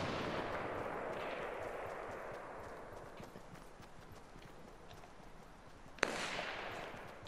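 Video game gunfire rattles at a distance over a constant roaring background, with one sharp, louder shot cracking near the end.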